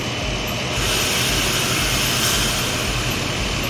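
The engine of the boat ANS Sayonara runs again after a restart, a loud, steady, unbroken drone with a deep rumble and a broad hiss, heard close and alone.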